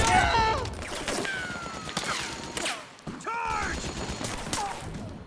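Rapid gunfire from a firefight in Metal Gear Solid 4 in South America, fusillades of shots and mechanical clatter under shouted soldier commands, with whooshing and zipping effects throughout.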